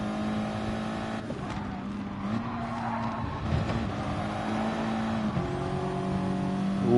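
Renault Megane race cars roar down a long straight in a racing video game, a steady engine drone with gear-shift changes and surrounding cars close by, rising slightly toward the end.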